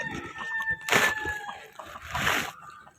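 Chickens cluck close by and a rooster crows twice in loud bursts, with some rustling and a faint tone through the background of a rural feeding area with fermented banana trunk, spinach and napier grass feed.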